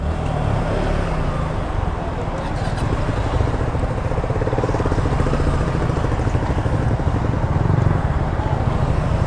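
Suzuki Gixxer SF 250 motorcycle rumbling steadily on a roadside, a loud continuous engine drone with road and wind noise over the whole stretch.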